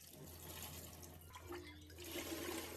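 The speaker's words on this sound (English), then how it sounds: "I rinse them thoroughly with water." Running water rinses a pot and a cutting board, a continuous hissing splash heard close and fairly quiet over a low steady hum, with no voices.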